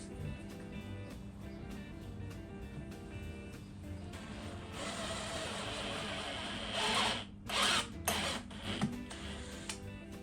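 A drill bores out the little brass rivets on a Dare R/S BBS 16-inch 9J alloy wheel. The grinding whine runs steadily for several seconds, then rises louder in short bursts with brief pauses near the end.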